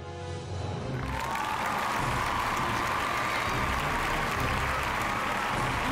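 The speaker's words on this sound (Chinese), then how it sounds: "掌声欢迎下一位藏友登场。" A studio audience bursts into sustained, loud applause on an antiques appraisal show, welcoming the next collector; clapping starts abruptly after a brief lead-in and holds steady throughout.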